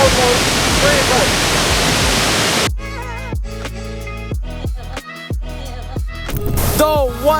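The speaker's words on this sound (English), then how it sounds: "cascading over a rock into a natural pool where you can dip your feet or even swim" Uma Anyar Waterfall cascades over rock into a natural pool as a steady, hissing rush for nearly three seconds. It then drops away beneath upbeat music.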